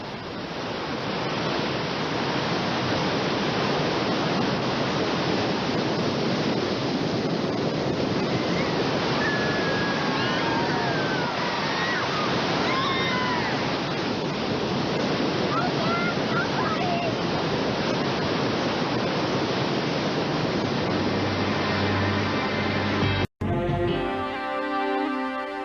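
Rushing whitewater rapids on the Salmon River roar loud and continuous, a dense wash of churning water that cuts off abruptly near the end.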